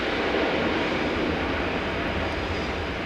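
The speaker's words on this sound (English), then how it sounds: "into land, the Airbus Defence A400M, Atlas" Loud, steady broadband roar of an Airbus Defence A400M Atlas military transport coming in to land at an air show, constant throughout with no breaks and no voices.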